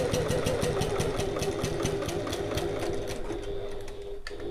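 A sewing machine top stitches through the layered fabric of a passport folio, a steady rapid mechanical chatter of needle strokes running continuously and close, slowing slightly near the end.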